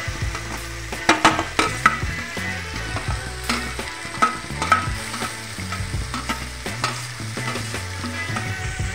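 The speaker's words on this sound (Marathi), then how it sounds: "व आता मी यामध्ये पत्ता कोबी टाकून देणार आहे" Shredded cabbage frying in a hot pan while being stirred, with loud repeated scraping and clattering strokes over a constant close sizzle, and no talking.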